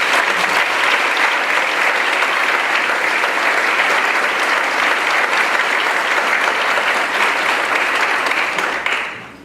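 Audience applause at a talk in Colombia, dense, steady clapping from a large crowd that holds for about nine seconds before fading out abruptly.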